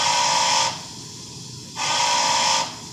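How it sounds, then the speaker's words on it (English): A World War II era three-chime train whistle plays from a Bachmann K4s streamlined HO-scale model's sound system as two steady, bright blasts separated by a short pause, close and clear with a faint hiss between. "World War II era 3 chime."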